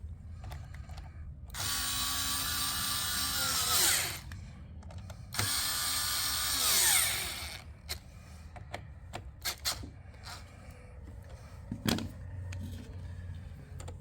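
Two long whirring bursts of a powered driver tightening T27 bolts on an Echo-style trimmer's throttle, each running a couple of seconds and winding down, followed by scattered clicks and light clanks of handling parts nearby.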